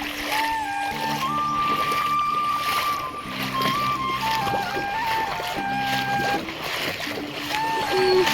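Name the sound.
walking through shallow floodwater, splashing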